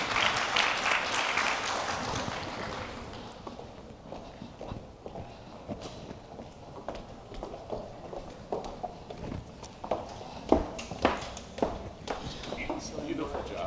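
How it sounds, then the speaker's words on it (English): Scattered, thin clapping from a small group at an opening ceremony, brief and uneven, mixed with shuffling and people talking in the background. "A big round of applause."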